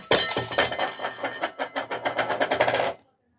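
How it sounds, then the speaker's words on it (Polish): A plate falls and shatters, with a dense run of sharp clattering and breaking crashes lasting about three seconds before it stops abruptly into silence. "Sytuacja opanowana, talerz spadł, bo pieski wylizały."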